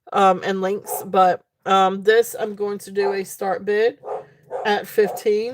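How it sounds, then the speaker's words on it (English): Dogs bark at a home during a live jewelry sale: repeated barks sit in the background, largely buried under steady, continuous talking. "I apologize for the dogs barking."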